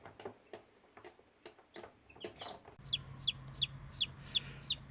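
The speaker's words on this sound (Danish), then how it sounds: "jeg bærer kyllingerne udenfor, og så kan vi se, hvordan de trives" Newly hatched chicks being carried outdoors, first some rustling and handling noises, then a run of high, evenly spaced peeping calls over a low steady hum, close by.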